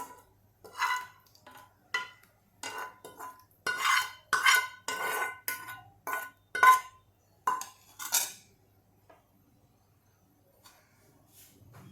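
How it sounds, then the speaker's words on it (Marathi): A spoon scrapes and clinks against a plate while potato curry is served, in a series of short, irregular metallic taps and scrapes up close, then quiet toward the end. "या प्लेटमध्ये मी ही बटाट्याची भाजी काढून घेते."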